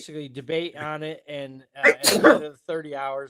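A single sharp sneeze breaks into a stretch of conversational speech, loud and close, and the talking resumes right after it.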